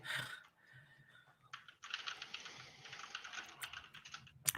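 Rapid keyboard typing clatters at close range during a live esports draft stream, a short burst of keystrokes followed by a steadier run of clicking, with no talking.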